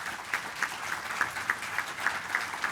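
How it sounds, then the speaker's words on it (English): An audience at a city State of the City address applauds city staff and the LA County Sheriff Department's Lakewood Station, moderately distant clapping with a loose, pulsing rhythm and no talk over it. "Let's give them a big round of applause."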